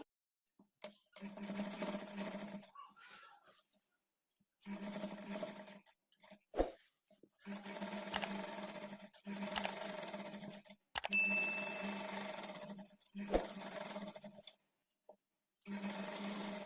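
A sewing machine runs in several bursts of steady stitching on a kids' lehenga, each whirring run several seconds long and separated by brief pauses, close and clear with no talk.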